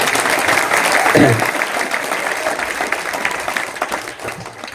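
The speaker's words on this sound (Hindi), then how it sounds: "उन सभी के लिए बहुत जोर से एक बार तालियां बजा दीजिए" A large crowd at a police event for Eid and Ganesh festival security breaks into loud, dense applause that continues steadily for several seconds and slowly thins toward the end.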